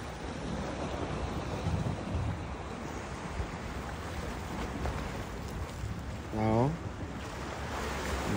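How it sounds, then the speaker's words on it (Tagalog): Sea waves wash along the Ajman Corniche shore at a fishing spot, a constant broad rush with wind buffeting the microphone, and a short burst of voice partway through. "balod-balod mangud ang dagat"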